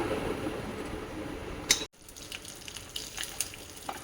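Bay leaves, dried chillies, whole cumin, mustard seeds, curry leaves and asafoetida dropped into hot mustard oil sizzle steadily, a faint hissing frying sound with a brief sharp clatter and a sudden drop midway.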